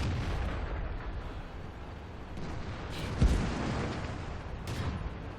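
A tank gun fires in World of Tanks on the Sacred Valley map, a deep booming blast that stands out briefly midway over a continuous rumbling engine-like bed, followed by a fainter echoing crack.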